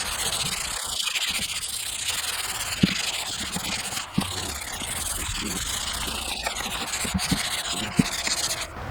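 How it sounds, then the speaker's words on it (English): Hand sanding of a repaired axe with 100 grit sandpaper, a steady close rubbing scrape running throughout, broken by a few sharp knocks or taps, with no talking. "So now we're going to go to our 100 grit just to give it a little bit finer of a touch."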